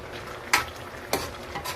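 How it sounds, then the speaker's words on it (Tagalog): Oil sizzles steadily in a pan as galunggong fish fry, while a utensil scrapes and taps a few times against the metal. "Yan, lagyan ko ng ano yan, prito. Pritong galunggong, yan."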